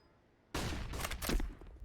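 Flashbang grenade going off in Counter-Strike on the Vertigo map during a competitive match: a sudden sharp burst after near silence, followed by a brief crackling, ringing tail.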